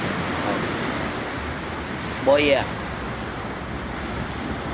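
Ocean surf at Ocho Rios, Jamaica, a steady broadband wash of waves close by, with people briefly talking over it.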